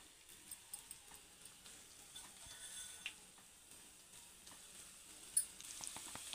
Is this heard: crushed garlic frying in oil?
yes